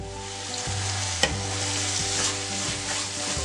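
Spoon stirring a thick carrot burfi mixture of carrot and coconut as it cooks down in a pan, soft scraping strokes over a low steady sizzle, close and quiet, with one sharp tap partway through.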